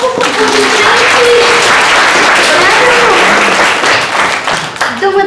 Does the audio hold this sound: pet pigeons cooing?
no